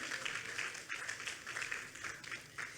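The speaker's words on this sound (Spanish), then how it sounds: "Denle ese aplauso fuerte al Señor" Applause at a Spanish-language church service in praise of the Lord, faint and distant, a soft continuous patter of many hands with slight swells.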